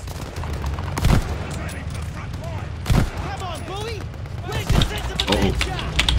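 An MG42 machine gun fires in Call of Duty Vanguard, with three loud bursts of gunfire standing out over a busy wartime game soundscape, and someone talks over the shooting.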